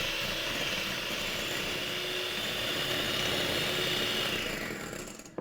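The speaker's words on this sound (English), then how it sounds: "Just leave that to cool slightly, and we'll whisk the eggs through." Eggs whisked for chocolate mousse, a steady, dense whirring buzz like an electric mixer running continuously and fairly loud, then easing off at the very end.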